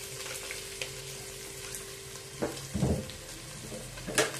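Chopped onion going into hot oil for an Adana-style eggplant dish gives a soft, steady sizzle, with a few louder bursts of spatter and stirring near the end, close by and without talk.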